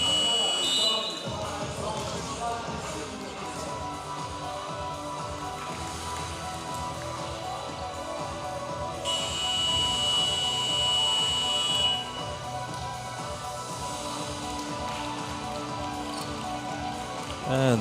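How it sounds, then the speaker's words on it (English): A buzzer sounds in an indoor basketball arena before tip-off at a National Basketball League Division One game between the Reading Rockets and Team Solent Kestrels. It is a steady electronic tone above crowd noise, with a commentator talking throughout. "Buzzer has sounded, ready for tip-off."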